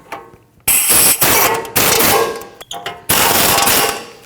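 Impact wrench or power tool on brake caliper bolts of a 2012-2021 Nissan NV2500 van, loud close rattling bursts in several long runs with short pauses between them.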